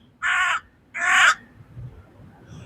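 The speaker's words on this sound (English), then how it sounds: "That's the noise my phone makes." A phone sounds a crow-caw alert: two loud, harsh caws about half a second apart, then quiet background outdoors with faint low rumble.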